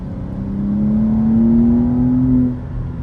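A 2024 BMW M2 with a manual gearbox pulls hard in third gear, its engine note climbing steadily through the revs for about two seconds before easing off, loud and close with no talk.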